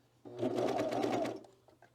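A home sewing machine stitches through four thick fabric layers of a hood, a close, rapid mechanical whirring burst of about a second and a quarter, then stopping.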